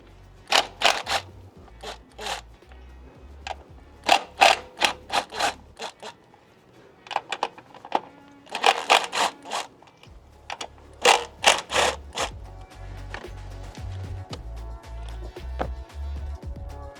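A deep socket ratchet works loose the ignition coil bolts on a Honda Element, giving clusters of sharp clicking pawl bursts in an irregular rhythm, close up, over a faint low hum.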